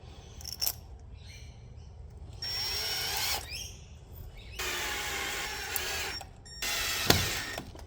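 A power drill drives screws through a mirror mounting bracket into a brick wall in several separate whirring bursts of one to two seconds each, close and fairly loud, with brief pauses between them.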